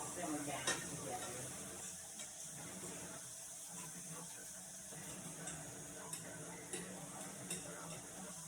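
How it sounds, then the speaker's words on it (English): Vegetables, carrots among them, sauté in a pan for rasta pasta with a quiet, constant sizzle and occasional light ticks of stirring. Low voices murmur faintly underneath. "So the veggies being sauteed kind of looks like that."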